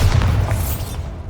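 A Bombarda spell blast in Hogwarts Legacy: one heavy, booming explosion with a deep low-end thump that rolls off and fades over about a second.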